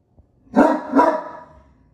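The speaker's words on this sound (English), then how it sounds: "What are you barking at?" A dog gives two quick, loud barks close by, one right after the other, with nothing else around them.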